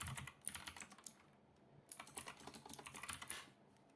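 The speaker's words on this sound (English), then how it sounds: "Now you want to type in first name" Fingers typing on a computer keyboard during account sign-up: quick, soft, close key clicks in two bursts separated by a brief pause, faint and with no voices.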